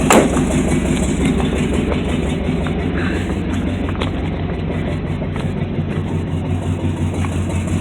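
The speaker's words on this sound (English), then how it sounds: "Doesn't that thing idle though, man? It just idles away." A 1971 Oldsmobile Vista Cruiser engine idles steadily, a loud, close low rumble with a regular pulsing beat that holds for the whole stretch, with no voices over it.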